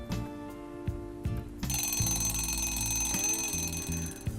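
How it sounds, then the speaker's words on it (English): An electronic alarm clock rings loudly, beeping in steady repeated bursts that continue without pause, with no voices. "We wake up in the morning at the sound of the alarm."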